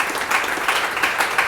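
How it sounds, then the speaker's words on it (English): Steady applause from an audience gathered in the offices of a New York healthcare startup, a dense continuous patter of many hands that stays close and even through the short stretch. "Quick round of applause for them."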